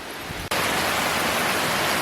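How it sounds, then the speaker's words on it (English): Heavy rain pounds a REI Passage One tent during a storm, a dense, loud, continuous hiss that surges in abruptly after a brief quieter moment and then holds steady, with no voices. "Rain's really coming down."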